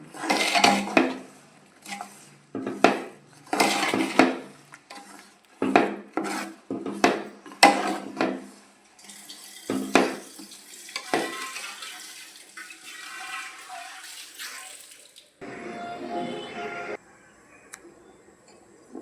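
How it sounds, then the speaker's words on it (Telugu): Jaggery being stirred in a metal pan as it melts, giving repeated close scraping and rubbing strokes in irregular bursts, then a softer bubbling stretch near the end. "బెల్లం అంతా ఇలా కరిగే వరకు ఇలా కలుపుతూనే ఉండాలి."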